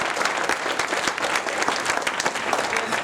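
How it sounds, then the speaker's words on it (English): Audience applause after six speeches at a public speaking championship prize ceremony, a dense, steady wash of many hands clapping that carries on throughout. "I'd like you all to give them another round of applause."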